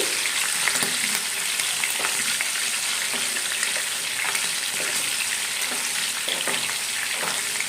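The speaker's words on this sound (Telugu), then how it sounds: "ఎప్పుడైనా సరే పచ్చిమిర్చి మనం కొద్దిగా ఆయిల్లో ఫ్రై చేసుకుంటేనే మనకి పులిహోరలో తినడానికి బాగుంటాయి" Green chilies frying in a little oil on medium flame for mango pulihora, a steady close sizzle with faint crackles and stirring, continuous and fairly loud with no voices.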